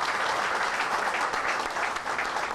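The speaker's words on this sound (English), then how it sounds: "That deserves a hand of applause." Audience applause at a political speech, a dense even patter of many hands clapping that stays steady for a few seconds, with no talking over it.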